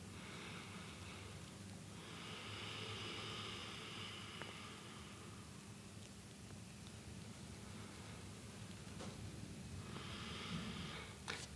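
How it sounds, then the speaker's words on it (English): Slow, deep breaths drawn in and out through both nostrils as a stress-relief exercise, two long airy inhales or exhales spaced apart with quiet rushing noise between, close and soft. "Take a few breaths with both nostrils."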